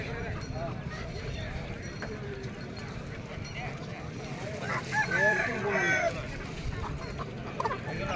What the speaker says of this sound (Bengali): এই দেখুন কত মুরগি বিক্রি হচ্ছে এখানে